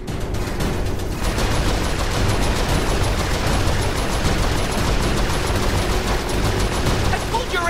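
Turret gunfire in Saints Row 4 rattles in a loud, unbroken fusillade of rapid shots and explosions, with a voice shouting over the din.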